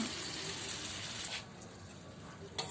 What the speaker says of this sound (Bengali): এখন এতে একটু পরিমাণ মতো একটু জল দিয়ে দেব সবজিগুলো একটু সেদ্ধ হওয়ার জন্য।